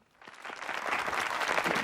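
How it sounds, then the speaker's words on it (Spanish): A studio audience at a Spanish television game show breaks into applause to welcome a guest. The clapping swells quickly after a brief quiet start and holds steady and full. "Vamos a saludar y a recibir con un aplauso a don José Luis Romero."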